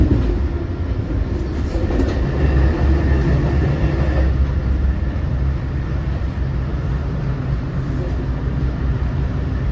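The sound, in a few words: LIRR eastbound train passing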